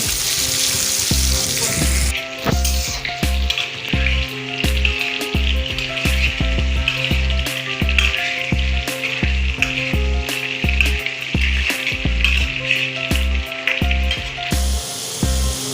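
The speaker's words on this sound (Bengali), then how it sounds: "আলুগুলো ভাজা হয়ে গেছে, এবার তুলে নিচ্ছি।" Potato pieces fry in hot oil in a pan, giving a steady, close sizzle with crackling pops and occasional stirring scrapes from start to finish.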